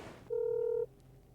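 A single steady electronic telephone tone, like a dialing or ringback beep, sounds once for about half a second, clear and fairly close, with faint room noise before and after.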